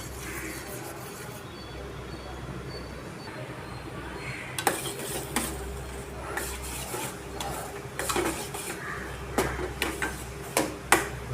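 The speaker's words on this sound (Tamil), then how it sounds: "அதனால் கடாயில் வதக்கிட்டே இருக்கணும்." Egg podimas is stirred in a kadai: a quiet background of low hum and faint sizzle, then from midway sharp, irregular spatula taps and scrapes against the metal.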